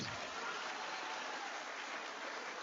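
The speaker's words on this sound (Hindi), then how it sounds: "तालियां बजाकर स्वागत कीजिए" Faint, distant applause at a political rally in Maharashtra, a thin, even patter of clapping with no voices standing out.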